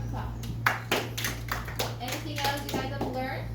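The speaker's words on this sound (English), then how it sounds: "Very good. Give him a clap." Classmates clap for a student in a school lesson, a quick scatter of sharp hand claps at the start that soon gives way to children and a teacher talking nearby.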